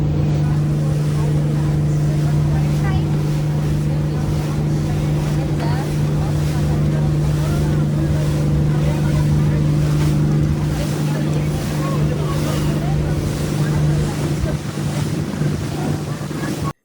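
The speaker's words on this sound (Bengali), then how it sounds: "আমাদের বোট একদম স্লো করে দিয়েছে" A tour boat engine on the Krabi four island tour in Thailand drones loudly and steadily with heavy wind buffeting and rushing water, continuous for the whole stretch.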